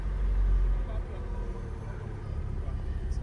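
A Hyundai Elantra engine fitted with a new ECU, turning over and catching into a steady low rumbling idle, loudest at the start and then settling into a continuous close drone.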